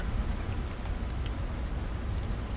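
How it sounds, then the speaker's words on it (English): Rain pours steadily inside a large building in No Man's Sky, a dense hiss with a low rumble beneath and scattered drop taps, no speech. "It's actually like raining inside here."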